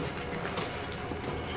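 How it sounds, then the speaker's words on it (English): A train rumbles past some distance away, a steady low roar with faint clatter that stays even across the whole stretch, with no voices. "Just heard that train go."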